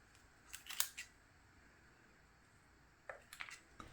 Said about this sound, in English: just recklessly give them a snip